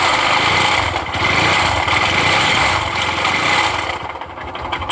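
Bajaj BS4 motorcycle engine idling with a crankshaft problem, a loud, close, continuous rough running with an uneven knocking rhythm and no talking.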